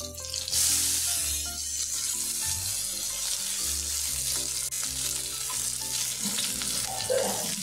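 Cumin, garlic and onion frying in hot oil for a bottle gourd kheema, giving a loud, steady sizzle that swells at the start and carries on under faint sustained tones.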